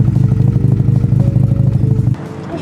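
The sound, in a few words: Mazda RX-7 FC engine revving with new exhaust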